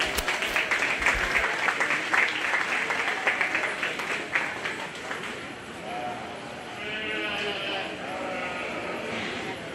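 A burst of clapping from a county fair 4-H/FFA sheep show crowd fades out, giving way to sheep bleating and a voice talking over the pen noise.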